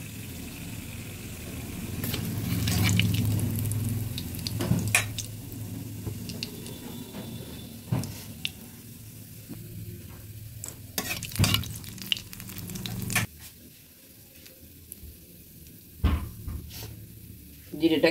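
Cumin seeds with cinnamon and cardamom crackling in hot oil in a wok for katla fish curry, a bright sizzle with sharp spoon knocks and scrapes, a voice talking over parts of it.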